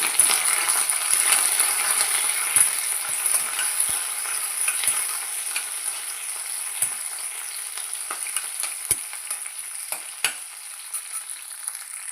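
Green chillies and curry leaves fry in hot oil with a bright, continuous sizzle close by, while occasional sharp clicks and taps of stirring break through.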